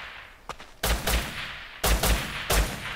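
Gunfire in the survival video game Rust Legacy: a light shot, then two loud bursts of rapid, close shots about a second apart, with a final crack near the end.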